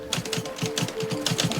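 Typewriter keys strike in a quick, steady run of sharp clacks, close and alone, with a brief bell-like ring between bursts; typing reports in a tent in a rainy mountain forest camp.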